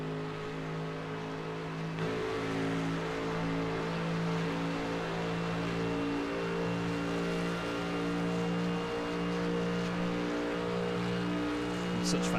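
A 6.3 litre V8 race car engine in a racing video game drones steadily at high revs throughout at Circuit de la Sarthe, a continuous loud roar that holds its pitch without letup.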